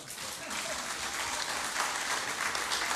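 A studio audience on a Slovenian television entertainment show, Dobra volja, breaks into dense, sustained applause that swells slightly and keeps up throughout, with a few voices mixed in.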